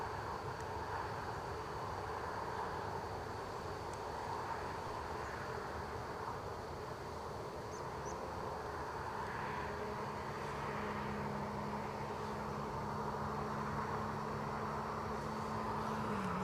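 An ATR turboprop airliner taxis at Newcastle International Airport, heard as a faint, distant, steady drone with a low rumbling undertone and no talking.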